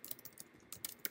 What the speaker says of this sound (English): and I'm typing in Swift